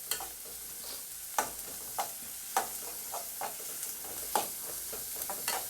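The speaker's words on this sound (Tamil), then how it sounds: "நல்ல ஃபைனாக சாப் பண்ண வெங்காயம், அடுப்பை நல்லா ஹையில் வச்சு ஒரு 2 மினிட்ஸ் இதை நல்லா குக் பண்ணுங்கள்" Finely chopped onions fry over high heat in a pan for a prawn masala, a steady close sizzle broken by repeated sharp scrapes and stirs of a spoon, with no talking.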